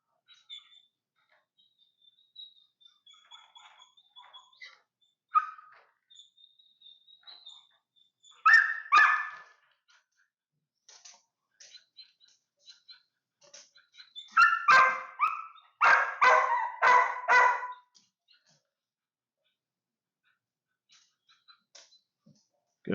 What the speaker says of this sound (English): Didn't get quite so repetitive with the barking as last time.